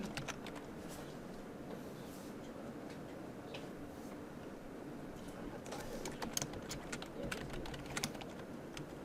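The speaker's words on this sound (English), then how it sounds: "I'm just going to type garbage." Typing on a computer keyboard during a programming lecture, a steady run of quick, light key clicks with denser bursts toward the end, heard close alongside faint room noise.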